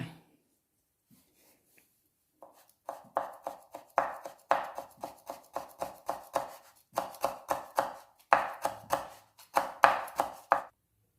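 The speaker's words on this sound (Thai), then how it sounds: "ต่อไปยายจะมาหั่นมะกรูดไว้โรยหน้าค่ะ อันนี้แค่สองสามใบค่ะ จะหั่นฝอยที่สุดเท่าที่จะฝอยได้ค่ะ" Rapid, steady knife chops finely shredding kaffir lime leaves on a cutting board, close and crisp, in bursts of quick strokes with brief pauses between runs; no talking.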